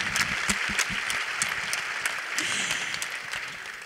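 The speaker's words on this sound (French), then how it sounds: "je crois qu'on peut vraiment les applaudir très fort" Audience at a women's forum evening applauding strongly, dense close clapping throughout with a few voices underneath.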